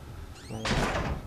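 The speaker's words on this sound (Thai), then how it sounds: "คนเกมนี้ปิดประตูโคตรดังอะ" A door closes loudly in the horror video game Outlast, a single heavy thud with a short rumbling tail heard close, preceded by a faint creak.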